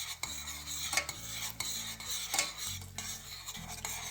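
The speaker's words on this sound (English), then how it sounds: "And then I'm just gonna stir this up" Garlic being stirred in melted butter in a pan, with soft repeated utensil scrapes and light clinks over a gentle low sizzle, close and quiet, no speech.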